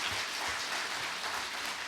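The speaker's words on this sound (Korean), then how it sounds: "박수 한번 부탁해주세요." An audience applauds at a university president's farewell ceremony, a dense, even wash of many hands clapping that holds steady throughout, heard from a distance.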